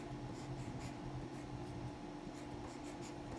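A pen or marker writes a fraction by hand, a faint close scratching with short strokes under a steady room hum.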